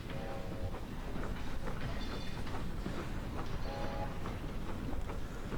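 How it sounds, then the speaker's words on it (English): Trains rolling along in a video game, a steady low rumble with faint clacking that carries on unbroken, moderately loud, with a couple of brief tonal whines over it and no talking. "Them trains going."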